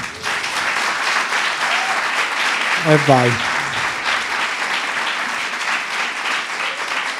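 A studio audience at the Tintoria podcast taping applauds loudly and continuously while a voice briefly calls out over the clapping.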